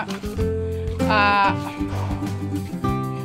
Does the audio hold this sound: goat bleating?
yes